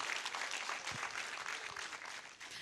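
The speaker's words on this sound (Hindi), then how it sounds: "एक ताली तो बजा के उनका स्वागत कीजिए" An audience at a political event claps to welcome politicians, a dense steady wash of applause lasting the whole moment with no voices above it.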